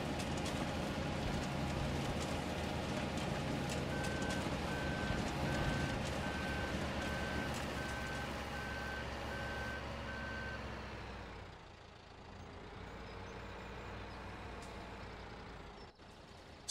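A wheel loader in the farming game Farming Simulator 17 reverses, with an evenly spaced electronic beep repeating over a steady low engine rumble that then fades and drops away.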